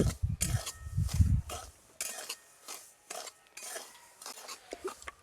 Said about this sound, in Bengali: শুকনো কড়ায় কিছুক্ষণ নাড়াচাড়া করে একটু হালকাভাবে ভেজে নিয়েছি।